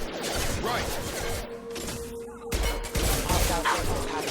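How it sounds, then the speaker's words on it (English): Mech gunfire in the Mass Effect 2 video game, rapid dense bursts of shooting with crashes and impacts, loud and continuous, with a voice speaking partly underneath. "I do like the shooting effects from the mechs"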